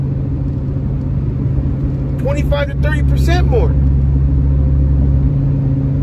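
Steady low rumble of a truck driving on the road, heard from inside the cab, with someone talking briefly over the engine drone.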